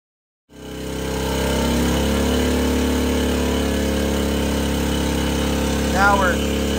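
Conventional generator engine running hard under a 6,000 watt load, a steady loud drone with a constant low hum that starts abruptly and holds throughout, with a brief higher whine near the end.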